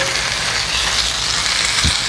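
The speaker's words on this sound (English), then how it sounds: "I'm gonna flip them over now." Chicken searing in a hot pan just after being flipped, a dense, continuous close sizzle with a brief soft knock near the end, no talk.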